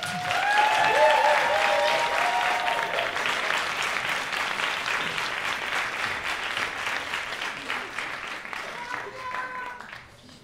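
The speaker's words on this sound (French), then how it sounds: "mesdames et messieurs, sous vos applaudissements, Marianne, s'il vous plaît." A comedy-club audience applauds a comedian taking the stage, steady dense clapping that swells early and slowly fades over about ten seconds, with a few scattered cheers on top.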